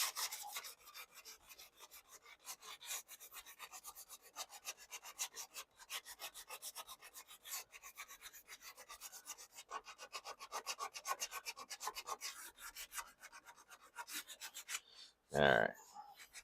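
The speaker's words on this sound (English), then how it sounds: "So I'm just going to scuff that area too." Quick back-and-forth scuffing of an aluminum car spoiler surface, faint rapid rasping strokes continuing steadily, ending with a brief louder thump.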